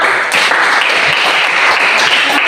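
Schoolchildren in a classroom lesson clap for a group of classmates, a loud, close, continuous burst of applause lasting a couple of seconds.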